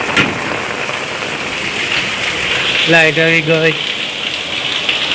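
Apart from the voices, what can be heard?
heavy rain falling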